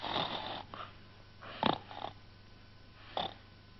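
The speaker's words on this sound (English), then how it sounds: "But Rag went on snoring." Slow rhythmic snoring, a few breathy snorts spaced about a second and a half apart, close and fairly quiet with no talk.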